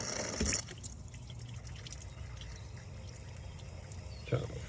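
Water flushes through a clogged car heater core on a Lexus GS300, a steady rushing pour with a couple of louder splashes at the start and end.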